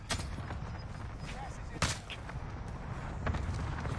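Gunfire in a zombie shooter video game, scattered sharp shots and thuds at moderate loudness over a steady background rumble, with one stronger burst near the middle.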